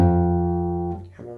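Two sustained notes on a stringed instrument follow each other almost without a gap, the first ringing clearly for about a second before the next begins, played alone and close.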